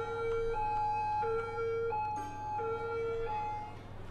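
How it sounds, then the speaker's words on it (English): Wailing police car siren in the Cities: Skylines city-building game, a loud two-tone electronic wail alternating steadily over a low continuous traffic hum, with no talk. "we've got an emergency vehicle, police car on there"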